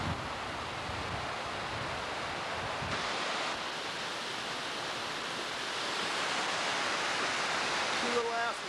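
Steady rushing roar of falling water fills the whole clip, broad and constant, with a brief faint tonal sound near the end.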